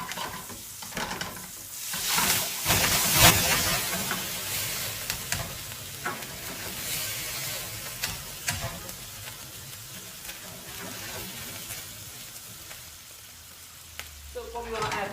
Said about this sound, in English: we're going to get this pan nice and hot, and we're going to add our brandy into this, and we're going to flambe it